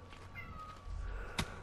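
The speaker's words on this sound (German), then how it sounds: "Die miaut so." A cat meows in a short, clear call that rises above a quiet rumbling background in a survival game.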